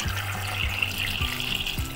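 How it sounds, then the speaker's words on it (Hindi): Water pours steadily into a pan holding raw mangoes, a close, continuous splashing and gurgling stream with faint rhythmic thumps underneath. "अब हम इसमें डालेंगे पानी"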